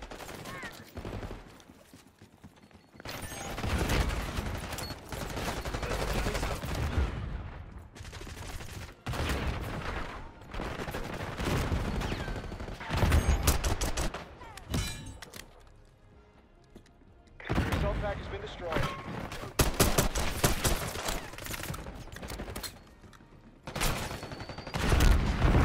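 PM Makarov pistol gunfire in the video game Call of Duty: Black Ops 6: repeated volleys of close, rapid shots firing almost like an automatic weapon, separated by short quiet gaps, with occasional talk.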